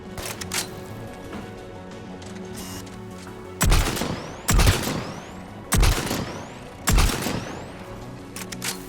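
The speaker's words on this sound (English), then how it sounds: "AA guns ahead of us." Anti-aircraft guns firing in the video game Mass Effect 3: four heavy booming blasts at regular intervals over a low ambient game soundscape, with no talk.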